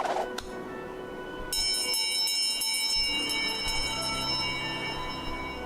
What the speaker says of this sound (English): What a loud bell.